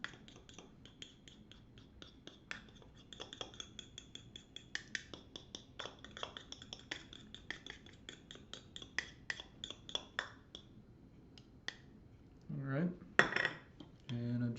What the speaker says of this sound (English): just going to kind of give it some gentle stirs. I like to kind of reach around the edges of the jar and kind of fold it in.